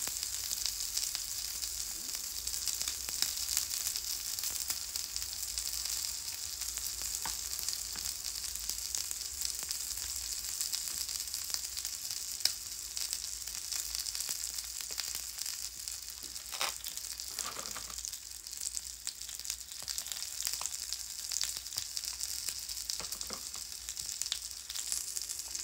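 Meat frying in a pan gives a steady, even sizzle with a faint crackle that runs unbroken for close to half a minute, with no talk over it.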